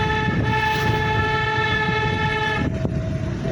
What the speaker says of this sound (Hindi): हॉर्न दे देंगे